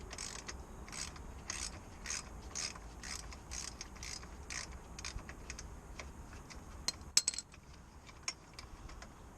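Ratchet undoing a nut on the starter motor of a 2007 Citroen Relay, giving a rapid, even series of faint clicks close by, with a few sharper metallic knocks near the end.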